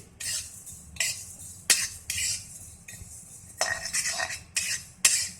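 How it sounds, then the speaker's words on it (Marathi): Fennel seeds dry-roast in a pan over a low flame, heard as a series of close scraping and rattling strokes of a spoon against metal, each burst separated by brief quiet gaps. "आता ही बडीशोप पण भाजून घेऊ ती पण मंद गॅसवरच भाजायची"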